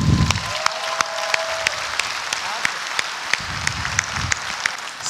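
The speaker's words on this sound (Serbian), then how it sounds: "Pozdravite ih velikim aplauzom" Applause for people called onto the stage at a live motivational talk, a steady crowd clapping with sharp individual claps throughout, fairly loud and continuous.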